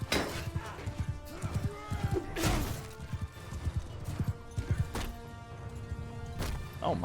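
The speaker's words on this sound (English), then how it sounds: "This poor horse is gonna have brain damage by the end of this battle." A horse gallops through a battle in the Bannerlord video game, with repeated hoof clip-clops, neighs and crashing impacts while someone talks over the action.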